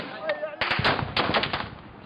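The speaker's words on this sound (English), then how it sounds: "Seconds later, the gunfire gets much closer." Close bursts of gunfire in a battle in Zawiya, Libya, with dense overlapping shots and rattling volleys following a brief quieter stretch, loud and near, with faint voices underneath.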